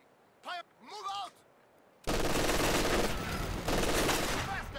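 Gunfire in the World War II strategy game Company of Heroes 2, a dense, loud stretch of rattling bursts that follows two brief vocal sounds in a quiet opening.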